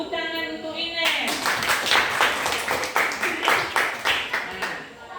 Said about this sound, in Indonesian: tepuk tangan untuk Ines